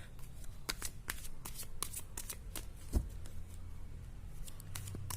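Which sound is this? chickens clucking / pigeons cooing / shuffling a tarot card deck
shuffling a tarot card deck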